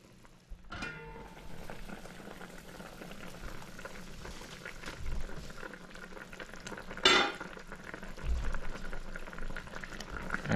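Fish masala curry simmering on slow heat, a steady close bubbling and light sizzle with occasional stirring and a brief clink of a utensil against the pan.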